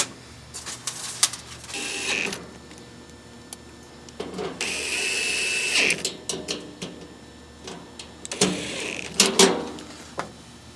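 Screws being driven back into the firebox of a Masterbuilt 560/1050 grill, heard as a near, repeated ratcheting and whirring of a driver in short bursts with brief pauses between, close and moderately loud.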